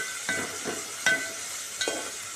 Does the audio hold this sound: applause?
no